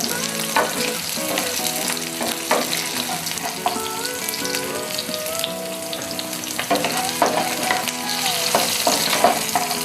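Pappadam (appalam) frying in hot oil in a pan until golden, a steady close crackling sizzle with bursts of bubbling and stirring throughout, no voices.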